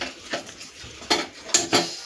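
A utensil mixes 25 grams of Dalda and butter in a pan for brownies, producing several sharp metallic scrapes and clinks, a few soft and then three louder strokes near the end.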